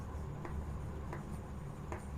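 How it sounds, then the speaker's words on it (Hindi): Writing by hand in a notebook, a soft pen-on-paper scratching with a few faint strokes, quiet and close over steady background hiss. "यहाँ मैं लिखता हूँ प्रश्नावली"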